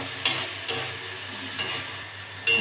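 Ground turmeric, chili, coriander and cumin with a little salt sizzle steadily in a pan, with a few sharp scrapes of stirring cutting through the continuous frying hiss; no one speaks.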